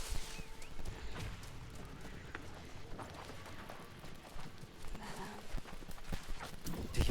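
Horse hooves clip-clopping steadily in the video game New World, soft and continuous under a dense layer of ambient game sound, no clear speech.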